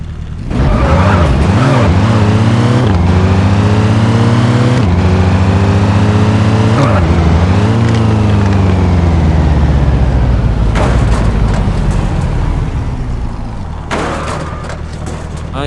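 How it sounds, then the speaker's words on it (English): A 1695-horsepower car with custom parts in the Car Parking Multiplayer game revs loud and hard, its engine pitch climbing and dropping through repeated gear shifts, with bursts of tire screech and skidding. "I am using a 1695 HP car with custom debars."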